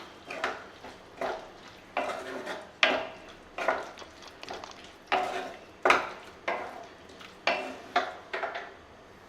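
Cheesy prawns are stirred in a pan, with rhythmic scraping strokes of a utensil against the pan repeating about every second over soft cooking noise.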